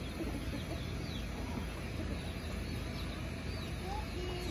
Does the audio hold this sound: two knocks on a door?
no